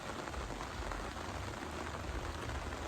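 Steady heavy rain pours down in a village during the landfall of Cyclone Montha, a dense, continuous hiss of drops hitting surfaces, even in level and uninterrupted with no voices.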